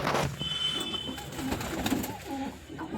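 Pigeons coo softly and nearby, a few low, throaty rolling calls over a background of light rustling.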